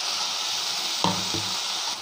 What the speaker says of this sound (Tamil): ஆனியனை கொஞ்சம் வதக்கி விட்டுக்கலாங்க.